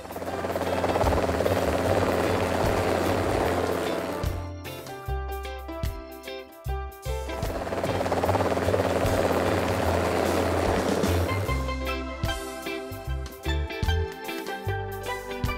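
Loud, continuous helicopter rotor noise with a rhythmic chopping beat and high engine whine, swelling and easing twice as if passing nearby.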